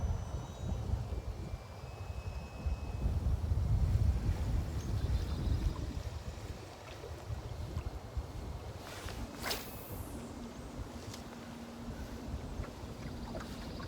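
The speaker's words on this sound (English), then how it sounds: "Wind blowing. Getting worse, coming out the northeast." Wind gusts across a lake during bass fishing as a northeast front moves through, a steady broad rushing roar buffeting the microphone throughout, strongest early on.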